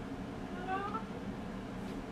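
A single short cat meow rises briefly over a low, steady background hum, fairly faint and close.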